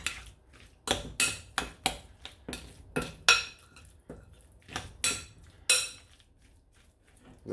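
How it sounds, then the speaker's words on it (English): A spoon mixes guacamole in a bowl with a series of sharp, separate clacks and scrapes, about a dozen irregular strokes, close and clear with no talking. "Mix this up with our spoon"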